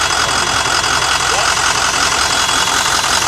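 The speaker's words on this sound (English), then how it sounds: "it's too bad you can't hear anything over this damn engine" A broken, long-parked diesel bus engine idles loud and close as a constant rough drone with a knocking undertone, steady throughout.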